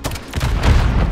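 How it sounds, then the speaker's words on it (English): A close-range explosion booms in a Call of Duty: Modern Warfare III hardcore match: a loud, rumbling blast with rapid crackling bursts that fills the whole moment. "I cannot believe an explosion to that close range on hardcore doesn't kill."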